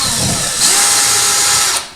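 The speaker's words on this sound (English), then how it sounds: "or you can do it with your electric screwdriver, whichever works." An electric screwdriver whirs steadily up close, removing the screws of a towel rack mounted on a tile wall, then winds down at the end; no voices.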